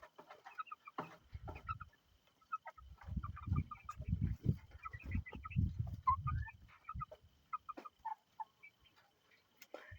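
Backyard chickens, among them possible young roosters, clucking nearby in a continuous busy chatter of low throaty clucks mixed with higher chirps and trills, with no talking.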